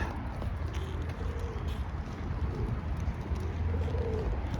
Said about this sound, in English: Come on, pigeon.